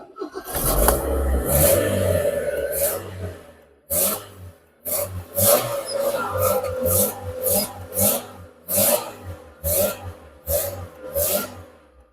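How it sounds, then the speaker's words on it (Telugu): A Hyundai Accent car engine idles roughly and revs in repeated bursts, close and loud, with short pauses between rises and a brief drop near the four-second mark. "ఒకసారి ఇంజిన్ కూడా స్టార్ట్ చేసి చూపిస్తాను మీకు."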